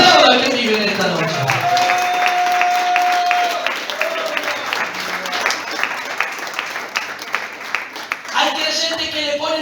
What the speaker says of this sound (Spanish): Aplauda al que vive en esta noche.